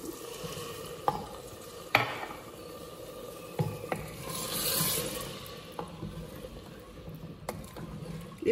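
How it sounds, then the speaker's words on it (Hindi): Water poured from a cup into a pan of frying red bean masala, giving a soft hiss and bubbling sizzle with occasional stirring clinks and scrapes, close and moderate in level. "तो अब मैं इसमें ये इतना पानी डाल रही हूँ कप से"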